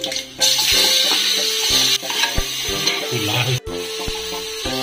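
Chopped onions frying in oil with cumin, dried chilli and bay leaf for chicken biryani, a steady close sizzle with stirring clatter and some background music-like tones, no talk.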